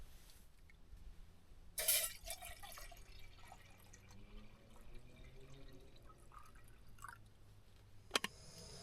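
Water trickles and pours into a pot on a camp stove at a mountain campsite. The sound is quiet and close, and a couple of sharp metallic clanks break through it.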